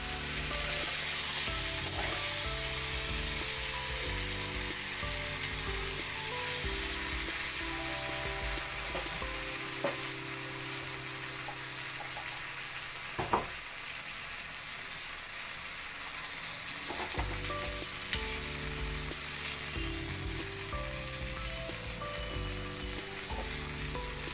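A spice paste ground from six ingredients, poured over potatoes in a hot pan, frying with a steady, dense sizzle and occasional faint stirring knocks throughout.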